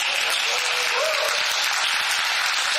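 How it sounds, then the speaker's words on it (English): A regional business gathering breaks into loud, sustained applause, the room's clapping dense and even, with a faint voice briefly underneath. "you can give yourself a round of applause"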